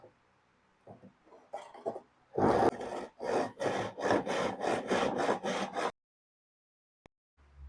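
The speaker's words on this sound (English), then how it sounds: "And then taking my tenon saw, do a bit of a guide cut first of all." A tenon saw makes a guide cut in wood: a few light, hesitant starting strokes, then around ten loud, evenly paced rasping saw strokes close up, followed by silence and a faint knock.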